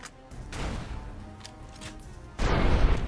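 Gunfire and explosive impacts in the Fallout: New Vegas video game, a series of loud bursts and crashes with a heavy blast near the end, over a steady game background.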